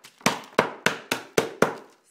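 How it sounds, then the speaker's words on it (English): Red boiled lollies on paper are smashed with six sharp, evenly spaced cracking blows, each a hard percussive hit with a brief decay, close and loud with no talking. "start smashing it"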